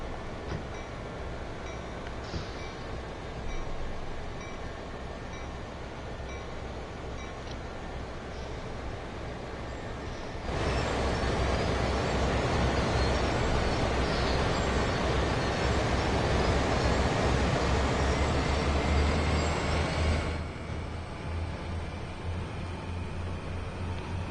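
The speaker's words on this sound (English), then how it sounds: "we have to wait for" A train rolling past in Train Sim World 2 on Sherman Hill, a steady wide rumble and rushing noise that swells louder midway for about ten seconds and then settles back to a lower drone.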